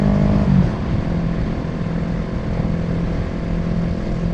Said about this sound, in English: Now we're going to upshift again after this next corner